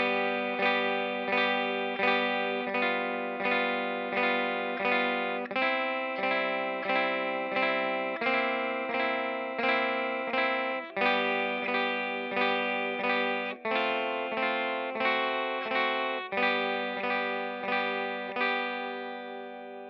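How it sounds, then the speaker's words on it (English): Electric guitar with distortion and chorus effects strums a simple beginner chord progression at full tempo, steady rhythmic strums ringing out loud and close with no voice, fading on the final chord. "Now I'm going to go ahead and play at at full speed or full tempo or whatever, just to give you an idea of how the whole chord progression will sound."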